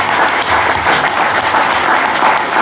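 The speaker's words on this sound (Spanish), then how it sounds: "yo voy a pedir un fuerte aplauso para el capitán Avellán." Loud, dense audience applause at a conference on leaving Guinea, given in honour of a Civil Guard captain: sustained even clapping from a full room, close and filling the whole clip.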